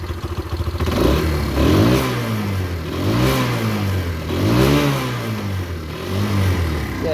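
A Derbi motorcycle engine idles steadily near by on fresh fuel after a carburettor clean, its low throb rising and falling in gentle surges without fully revving.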